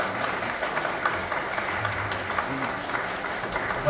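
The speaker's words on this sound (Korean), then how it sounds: "큰 박수로 축하하겠습니다" A church congregation applauds warmly during a year-end worship service at Namcheon Church, steady continuous clapping filling the room throughout.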